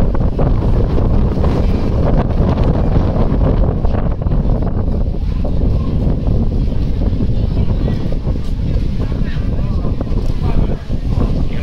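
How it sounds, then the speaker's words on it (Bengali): Strong sea wind buffets a phone microphone at a coastal park beach in Shenzhen, China, a loud continuous roaring rumble with surf-like wash underneath, steady for the whole stretch. "এত বাতাস, মোবাইল ধরে রাখতে কষ্ট হয়ে যাচ্ছে।"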